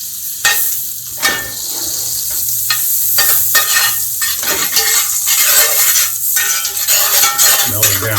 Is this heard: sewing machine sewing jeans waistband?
no